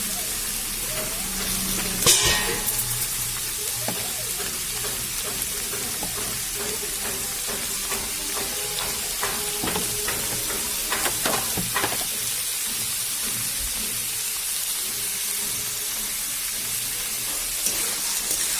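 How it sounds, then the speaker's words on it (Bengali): Noodles for chowmein fry in a pan with a little salt, giving a steady, even sizzling hiss throughout with a few faint scraping and clinking touches, alone with no talk. "একটু নুন দিয়ে ভাজা করবো, তাহলে ভাজাটা বেশ সুন্দর হবে।"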